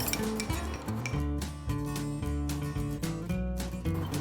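Butter and vanilla stirred into a biscuit dessert mixture in a pan over a low-medium flame, with continuous rhythmic scraping and clinking of a utensil against the pan, close and fairly loud.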